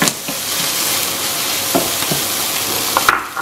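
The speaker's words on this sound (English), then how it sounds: "we'll fry our onions, then our pepper" Onions and pepper frying in a little oil in a non-stick pan, a steady close sizzle with occasional clicks and scrapes of stirring.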